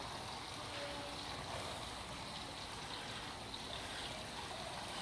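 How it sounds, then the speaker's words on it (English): An indoor water fountain at Greeley city hall runs with a steady, even splash and trickle of falling water, a continuous broadband wash with no pauses or talk. "There's a water fountain in Greeley City Hall."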